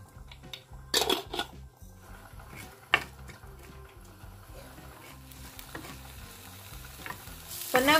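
Onion with cumin and fennel seeds sautés in a pan for greens kootu, a low sizzle punctuated by several loud metallic clanks and scrapes of a spoon stirring, close and without speech.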